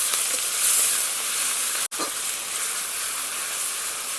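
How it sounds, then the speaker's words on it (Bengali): Onion paste sizzles in hot caramelised sugar and oil in a pan, a steady bright hiss that runs unbroken apart from one brief dropout partway through. No one speaks. "এবার এর মধ্যে 2টো পেঁয়াজ বাটা দিয়ে দেব, দিয়ে ভালো করে নেড়ে পেঁয়াজের রসটা শুকিয়ে নেব।"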